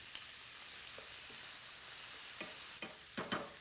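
Beef frying with onion and garlic in a pan for adobo sa gata, a faint steady sizzle with a few soft clicks and scrapes of stirring toward the end, no voices.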